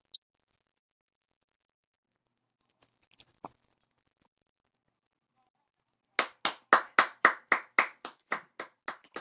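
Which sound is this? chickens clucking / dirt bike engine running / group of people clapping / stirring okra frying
group of people clapping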